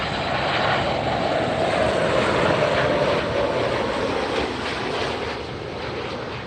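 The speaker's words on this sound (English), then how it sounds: "That is Alaska Airlines Flight 330, arriving from Portland, a Boeing 737 MAX 8." An Alaska Airlines Boeing 737 MAX 8 in a special livery arrives at LAX from Portland, its engines a steady, loud broadband roar that holds close and constant before easing off slightly near the end, with no talking.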